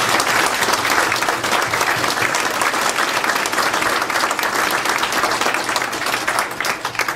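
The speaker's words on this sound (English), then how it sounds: "So please give him a round of applause for 30 years of service." A crowd at an Elks Club law enforcement night claps for a retiring officer, steady and dense throughout at a fairly close, even level, with no voices standing out.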